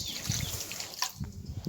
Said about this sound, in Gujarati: એને પણ પાણી પાઈ દઈએ આપણે